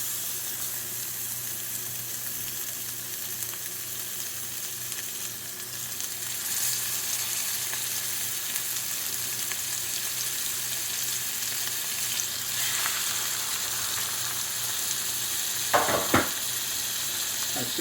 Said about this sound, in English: Oh, that fish is going in.